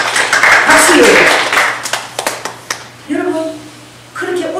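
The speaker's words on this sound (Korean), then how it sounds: "박수예요." A church congregation applauding during a sermon, a broad wash of clapping that swells and then thins into a few scattered claps, followed by a preacher's voice.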